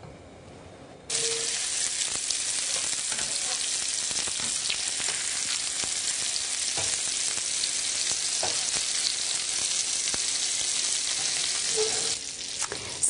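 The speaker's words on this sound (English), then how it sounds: "So now we're going to saute them until they're browned on one side." Breadcrumb-coated pieces sautéing in hot oil as they brown on one side, a steady close hissing sizzle that starts abruptly after a second and carries on evenly with faint stirring clicks until near the end.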